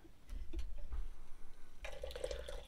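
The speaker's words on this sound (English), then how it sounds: "So pour it out." Moroccan tea poured from a pot into a glass, starting with soft drips and scattered clinks, then becoming a steady, close trickling stream of liquid in the last second.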